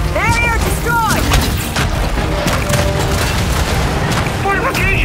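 Explosive boom as a barrier is destroyed in Gears 5 Horde mode, loud blasts amid dense battle noise with sweeping electronic tones, a voice speaking over the clamor.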